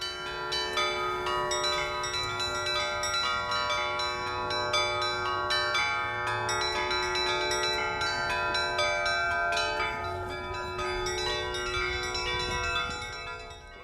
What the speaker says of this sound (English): you can't spend long in Suzdal without hearing the unmistakable sound of church bells ringing out across the town